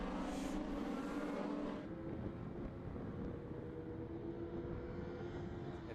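Race cars head into the hairpin at the Anglesey circuit, their engines a continuous, fairly distant roar that eases slightly after the first couple of seconds, with a touch of wind noise.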